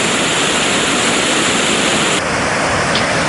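Water roars through the opened spill gates of the Parakrama Samudra reservoir into the Mahaweli River: a loud, dense, unbroken rush that shifts slightly in tone partway through.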